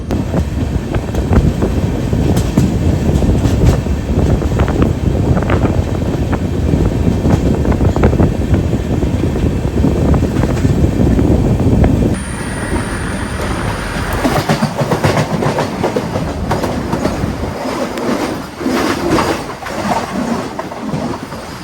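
A Garib Rath Express train with LHB coaches rumbles along the rails in rain with a steady clatter for several seconds, then the noise drops to a lighter, more distant rattle with rain-like hiss.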